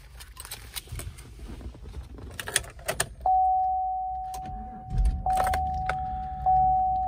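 Inside a 2014 Chevrolet Silverado 1500 LTZ pickup, keys jangle and a steady warning chime sounds, then the engine cranks briefly and settles into a low idle rumble under the chime.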